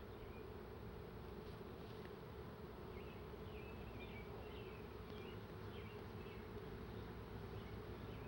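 Italian honeybees buzz continuously in a dense, humming swarm around an open, stirred-up hive, with individual insects whining past nearby; no voices.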